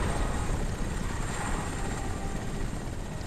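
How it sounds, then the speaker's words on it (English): A helicopter flies in a video game, its rotor drone steady and continuous with a constant whine on top, fairly loud and uninterrupted. "There's the old helicopter and one rocket."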